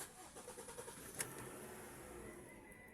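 A Honda Civic FB running on LPG cranks with a rapid series of starter pulses, then catches and settles into a steady idle, heard close and fairly quiet.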